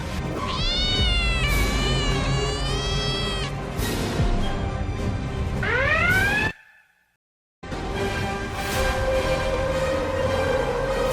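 Cat meows used as a sound effect in an animated story: a run of loud, close, drawn-out meows with wavering pitch, a brief silent gap, then more meowing over a steady background.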